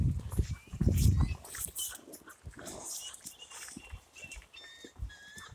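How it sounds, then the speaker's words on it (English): Seagulls and crows call overhead, a mix of high gull cries and harsher crow caws, scattered and somewhat distant, with rustling and low noise early on. "Wow, seagulls and crows."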